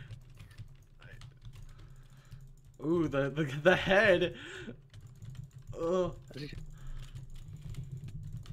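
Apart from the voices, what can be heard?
fast clicking on a computer mouse and keyboard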